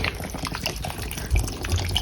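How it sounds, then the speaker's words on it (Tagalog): Tap water runs steadily into a container in a home in Japan, filling it to water houseplants, with a continuous close splashing and a few low gurgles. "kukuha ako ng water para sa plants ko"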